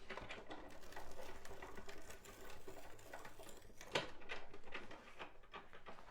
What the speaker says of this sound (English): we're rolling through our Sizzix Big Shot Plus